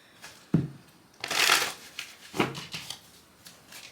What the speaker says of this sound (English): Let me do a quick shuffle because a lot of cards are just trying to pop out